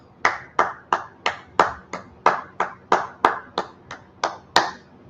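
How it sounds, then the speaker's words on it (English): People clapping in unison at a brotherhood class, about fifteen sharp, evenly spaced claps in a steady rhythm, close and crisp with quiet gaps between them. "All right, go ahead and clap it up."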